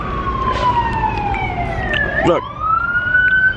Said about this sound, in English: Oh, there went a fire truck.